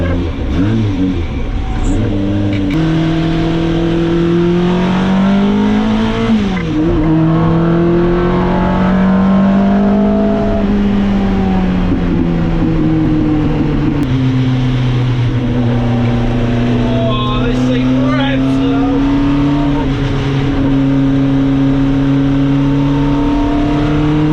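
A freshly built Ford Crossflow race engine in a TVR runs loud and close, idling with a steady low drone and rising through several revs that bend the pitch up and down. No one speaks over it.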